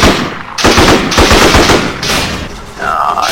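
Rapid bursts of video game gunfire hit a turret, loud, close automatic shots in three quick volleys with a short gap before a final burst.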